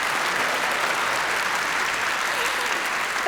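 Dense, continuous applause from a packed auditorium audience at Elon University, steady and loud from start to finish with no speech over it.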